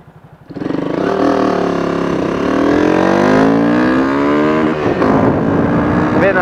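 A motorcycle engine, tuned for mid-to-high revs, idles briefly, then revs up and holds at high, roaring revolutions, loud and close, with pitch rising and wavering.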